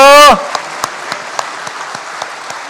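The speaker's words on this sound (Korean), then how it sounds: "박수로 한번 격려하겠습니다." A church congregation applauds the choir at an Easter Sunday service; a brief voice opens, then scattered, fairly sparse claps ring out over a steady hiss of room noise.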